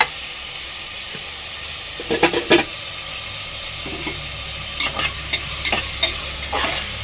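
Prawn curry masala with plenty of onions frying in a covered pan; a steady low sizzle runs underneath while scattered sharp scrapes and clatters of a spatula or lid come through in short bursts, with no voices.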